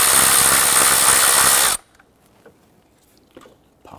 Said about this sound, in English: Loosen and remove the 10 millimeter bolt here